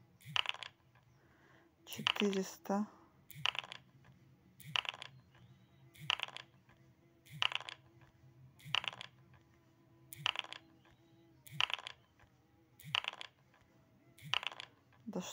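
Dice rattle and clatter in a video game, about a dozen short, sharp bursts repeating at a regular pace over a quiet backdrop, with a voice speaking briefly near the start.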